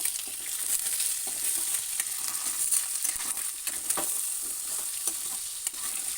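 Gongura egg curry sizzles steadily in a pan as a spoon stirs and scrapes through it, with soft clicks over a constant frying hiss, close and moderately quiet.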